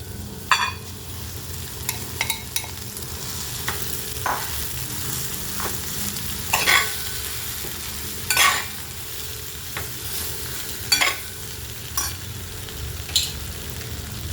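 A potato masala mixture with turmeric is stirred in a frying pan, with steady sizzling and irregular spoon scrapes and taps against the pan.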